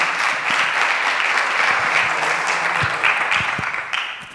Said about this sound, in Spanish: os voy a pedir un fuerte aplauso para Adastra.